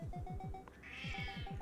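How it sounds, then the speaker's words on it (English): A pet cat gives a faint meow indoors, heard quietly over a repeating pattern of soft, regular game sound effects. "Sorry, I'm just talking to my cat."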